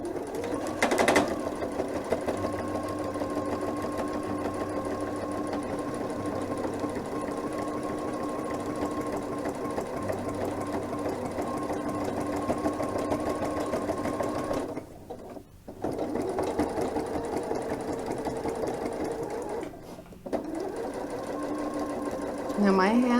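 A sewing machine stitches a single fold welt pocket in one long steady run of rapid needle strokes, close and even, stopping for two short breaks before carrying on.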